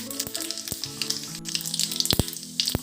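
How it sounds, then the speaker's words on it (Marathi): Cumin seeds crackle in hot oil during tempering for a fasting-day chutney, with a steady sizzle broken by a handful of sharp pops and spits, close and loud, and no speech. "व्यवस्थित तडकू द्यायचा आहे आपल्याला जिरा"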